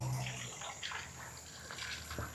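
Water pours and splashes over a mud-caked item outdoors, a close, uneven gush with brief splatters, fairly faint and without speech.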